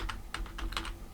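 A computer keyboard being typed on while writing code: several quick, close keystroke clicks in a short burst, fairly quiet.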